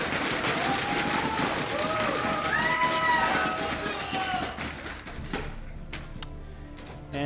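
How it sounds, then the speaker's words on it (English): A crowd at a StarCraft 2 esports match cheers and applauds for the player Byul in a loud, sustained roar that thins and fades over the final seconds. "Give a cheer for LGIM's Byul!"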